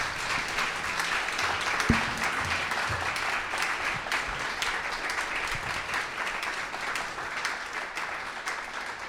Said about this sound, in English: how about a big round of applause for the fantastic panel?